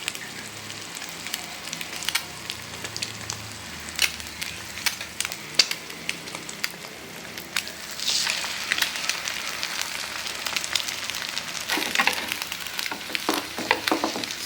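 A bread sandwich fries in a pan over a low flame, giving a steady soft sizzle with scattered crackles and pops that grows slightly denser toward the end, with no talking.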